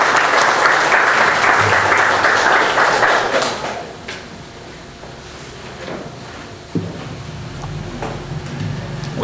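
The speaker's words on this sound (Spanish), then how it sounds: "Recibámoslo pues con un fuerte aplauso." Loud applause from an audience at an evening lecture on administrative law at a lawyers' association in Lima, dense clapping for about four seconds before it thins to scattered claps and room noise.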